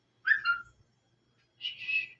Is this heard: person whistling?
yes